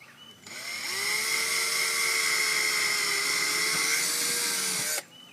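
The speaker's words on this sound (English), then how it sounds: "We're using a 7/64 drill bit for these screws that we're going to use on this." A power drill with a 7/64 bit whines steadily for several seconds as it bores into a plastic kayak, close and fairly loud, then stops abruptly.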